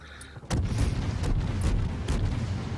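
Main guns of a tier 2 IJN Chikuma cruiser fire in World of Warships, a loud booming salvo followed by a few more heavy blasts over a constant rumble of engine and sea, with no voices.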